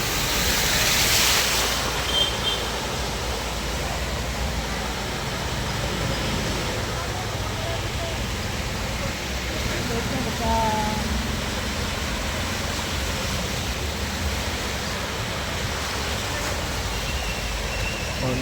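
A broad, constant rush of floodwater flowing along a road at Adda Kot Fatuhi, Punjab, after heavy rain fills the recording, steady and loud, with wind buffeting the microphone and faint voices underneath.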